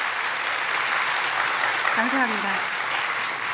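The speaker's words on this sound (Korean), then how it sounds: "오늘처럼 이렇게 박수를 많이 쳐주시는 건 처음인 것 같아요" An audience in a church claps continuously at a steady level, while a voice speaks briefly over the applause.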